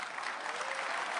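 Audience at a Nicolas Sarkozy political campaign speech in Poitiers applauding steadily, a dense, even wash of clapping filling the whole moment with no voice on top.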